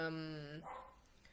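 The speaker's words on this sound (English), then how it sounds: "Yes, I know you can hear my dog outside." A dog barks outside in one drawn-out, tonal burst lasting about half a second, then a person talks over faint room noise.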